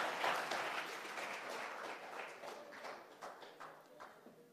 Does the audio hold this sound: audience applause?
yes